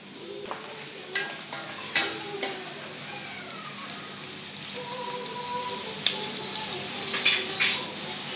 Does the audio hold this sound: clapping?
no